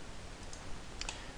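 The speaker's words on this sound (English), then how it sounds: "Here you go, right mouse click." Two faint, sharp computer mouse clicks, a short gap between them, against quiet background hiss.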